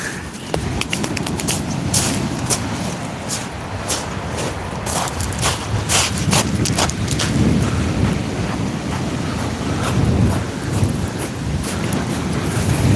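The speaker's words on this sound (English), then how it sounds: "there would be wind just as I'm about to cast, wouldn't there?" Strong wind buffets the microphone at sea during kayak fishing, a loud continuous roar with gusty surges and crackling bursts throughout.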